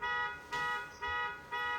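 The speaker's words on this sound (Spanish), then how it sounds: "la alarma del auto que se activa" A car alarm sounds in a repeating electronic pattern of bright, buzzy tone bursts about twice per second. Each burst starts sharply and fades slightly, at a moderate distance with no talking.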